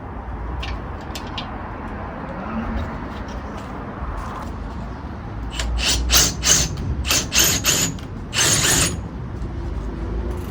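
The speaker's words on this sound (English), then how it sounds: "Now I'm just going to run this tap in it, and then we'll bolt it." A thread tap being run by hand into a drilled hole in a Mercedes Econic coach door, a rumbling background, then a burst of sharp ratcheting clicks and creaks in quick succession near the end.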